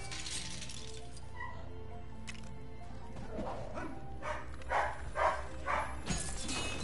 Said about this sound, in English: Why did my mom have to adopt dogs that yap so much?